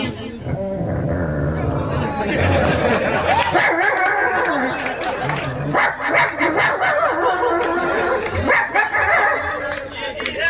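Someone vocally imitates dogs fighting, with a rapid run of snarls, yelps and barks that carries on for about ten seconds over a noisy crowd.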